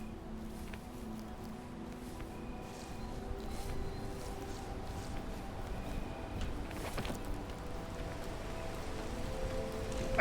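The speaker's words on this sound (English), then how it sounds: "I can't believe it's raining right at that second!" Steady rain hissing across the scene in the video game PEAK, a dense, even patter with a few faint tones and clicks on top and no talk.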